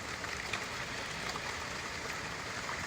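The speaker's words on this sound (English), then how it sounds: "even though it's raining now" Steady rain falling outdoors in an open natural setting, a soft continuous hiss of drops with no voices, fairly faint and even throughout.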